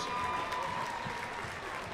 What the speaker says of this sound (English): please give a round of applause to our senior members